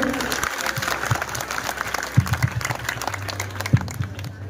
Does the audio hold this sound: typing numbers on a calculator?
no